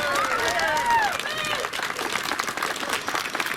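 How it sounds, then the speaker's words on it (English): An audience at a heritage plaque unveiling in Ballyfermot, Dublin, claps in a dense, sustained round of applause. A voice carries over the start, then fades under the clatter of hands. "Come on, we give them a bigger round of applause"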